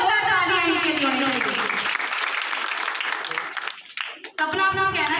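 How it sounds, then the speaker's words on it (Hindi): An indoor Women's Day gathering in Nagpur breaks into loud, sustained audience applause, dense clapping that briefly thins near the end before swelling again, with someone speaking over it at the start. "एक बार जोरदार तालियां इनके लिए।"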